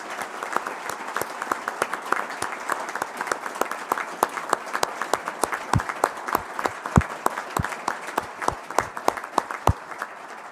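An audience applauds the Ranger Regiment winners of a Best Ranger competition at a ceremony, a steady, sustained round of many hands clapping at moderate distance, with no speech over it.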